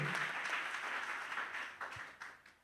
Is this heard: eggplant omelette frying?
no